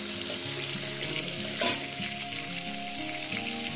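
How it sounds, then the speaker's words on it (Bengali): Tomato frying with spices in a pan gives a continuous close sizzle, with a few soft clicks of stirring and one sharper knock partway through; no one speaks. "টমেটোটা আমি 2-3 মিনিট ভেজে নেব।"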